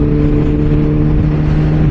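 Motorcycle engine droning loud and steady as the throttle is twisted, a constant close-up hum with strong low harmonics and wind noise, no voices.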